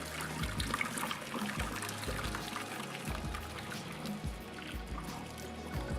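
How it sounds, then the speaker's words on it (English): Hot water pours from a pot of boiled eggs, a steady watery trickle and splash running for several seconds with no talking over it. "now gently pour out the hot water, very carefully."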